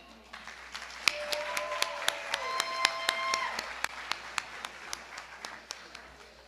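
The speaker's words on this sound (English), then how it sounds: "if we could get one more round of applause for these excellent students" Audience applause at an adult education graduation ceremony: scattered, sparse claps with sharp individual hand strikes over a soft crowd murmur, moderately distant and fairly quiet throughout.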